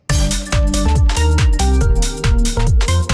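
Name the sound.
house track drop with Orbhits Hit Fairlight stab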